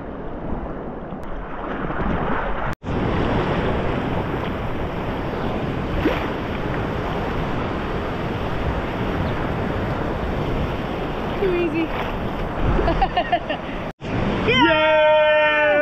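Ocean surf crashes and washes continuously onto a beach where people are bodyboarding, a loud close roar mixed with wind buffeting the microphone, briefly cut off twice, with a faint voice toward the end.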